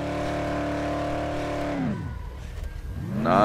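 Truck engine in the zombie video game Dead Island, a steady loud drone that drops off and then revs back up near the end, with no talk.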